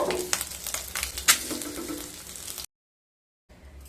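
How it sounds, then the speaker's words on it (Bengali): Egg pieces fry in hot oil in a pan until light brown, giving a close, busy crackling sizzle with a few utensil taps, then the sound cuts out abruptly to silence before a faint hiss returns. "দুটো সাইড হালকা ব্রাউন কালার করে ভেজে নেব"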